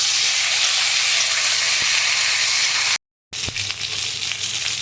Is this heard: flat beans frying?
yes